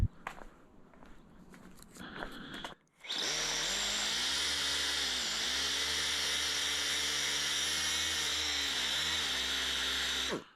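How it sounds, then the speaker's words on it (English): Mini DA sander with 150 grit paper working over a 1990s magazine truck cab, a steady high whirring drone that starts abruptly after a few seconds of quieter shuffling and runs on close and loud. "I'm just gonna hit it with a mini DA"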